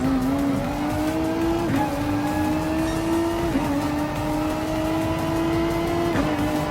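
A GT3 race car engine holds a steady high drone with brief dips at gear changes, and faint tire noise runs beneath it, in the racing video game Gran Turismo Sport; nobody speaks.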